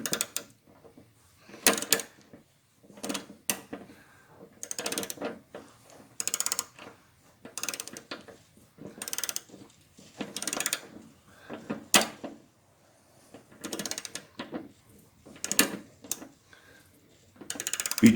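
A wrench torquing a Harley Softail bolt to 65 foot-pounds: repeated bursts of close mechanical ratcheting clicks, spaced evenly with short pauses between, alone without talk.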